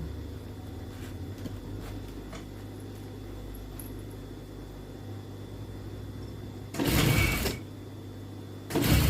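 A sewing machine stitches fabric with a steady, droning motor hum; two brief, louder bursts break through near the end.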